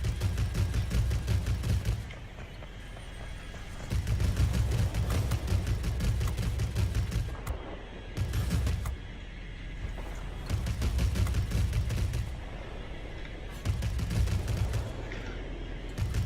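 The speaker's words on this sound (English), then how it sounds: "Love the sounds of those 30 millimeters." 30 mm cannons fire from a Focke Wulf FW 252 German fighter in the World of Warplanes game. Long rapid bursts of heavy booming gunfire repeat every couple of seconds, loud and dense. Steady engine drone fills the gaps between bursts.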